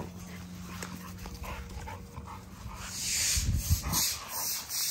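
A dog whimpers and whines in short, uneven bursts over a noisy background, growing a little louder and more agitated toward the end, with no one talking.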